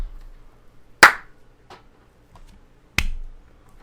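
Two sharp, isolated hand claps sound about two seconds apart in a quiet room, each a crisp close snap with a short decay, with faint small knocks between them.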